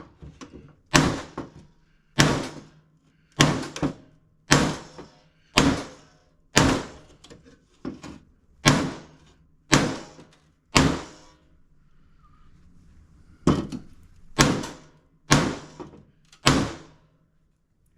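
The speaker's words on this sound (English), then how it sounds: "What I like to do is use 2 hammers." Metal clanks from one hammer striking another on a thin, bent lawn mower deck, about fourteen evenly spaced blows with a ringing tail. A short pause interrupts them, then the steady rhythm resumes.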